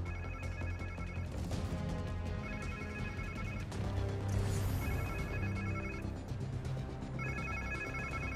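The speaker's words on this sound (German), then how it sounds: "Klingt wie irgendein Handy." A mobile phone ringtone plays in Marvel's Spider-Man 2, a repeating electronic melody in several bursts separated by brief pauses, over steady game ambience and rumble.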